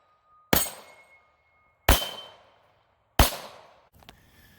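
Hi-Point JHP .45 ACP pistol fired at steel targets 25 yards away outdoors: three loud, sharp shots spaced about 1.3 seconds apart, each followed by a ringing decay, with a faint clank from the steel afterward.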